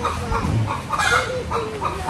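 A chicken clucks several times at a house yard with plants, in short repeated calls that sound close, over a steady rustling background.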